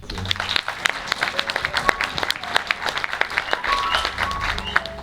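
A church congregation applauds, dense clapping close by with steady energy throughout, a few voices mixed in.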